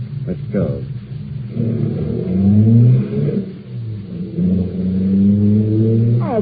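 A car engine starts and rumbles as the car pulls away in an old radio drama, revving and roaring across the scene beneath and between spoken lines.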